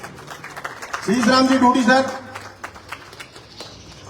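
Crowd applause rises for about a second at a road foundation-laying ceremony in Ward One, honouring the MLA, and partly masks an announcer's voice before fading under continued talk.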